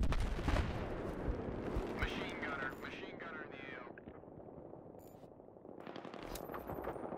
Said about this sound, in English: Machine gunner in the AO.